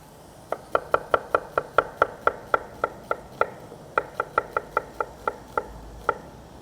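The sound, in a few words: knife slicing a yellow onion thinly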